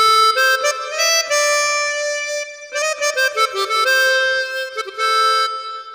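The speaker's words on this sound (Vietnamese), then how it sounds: "Tiếp theo tại sử dụng đó là tiếng harmonica." A keyboard's harmonica voice plays a sustained, reedy melody with held notes and quick ornamental turns, clear and close with nothing else behind it, as accompaniment for a Vietnamese song.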